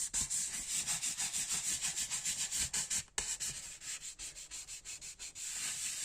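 Hands rub a wet paper sheet flat onto cardboard, pressing out air pockets and wrinkles for a cardboard desk organizer, giving a close, rhythmic scraping and swishing in quick repeated strokes with no talk.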